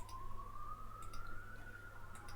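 An ambulance siren sounds as one steady wail that climbs slowly in pitch, fairly loud and continuous over a low background hum.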